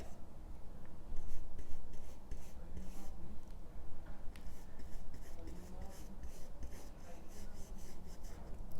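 Oil paint is rubbed out on a canvas with a soft, continuous scratchy rubbing and brushing that rises and falls in short strokes, close up and fairly steady.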